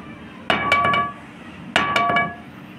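Two sharp tapping clinks on a Lead Super carbon pool cue shaft, each a quick cluster of bright ringing knocks that fade quickly, with a pause between; no voices.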